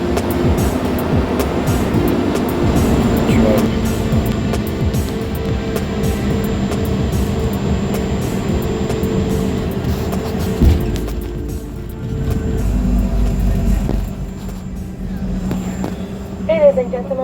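Inside a United airliner cabin during landing, a steady low roar of engines and airflow fills the space with faint voices, and a heavier rumbling swell comes late before the noise eases.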